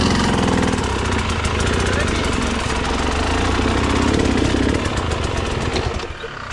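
A moped engine runs loud and close with a steady buzzing drone, revving slightly while people call out over it, then drops away at the very end.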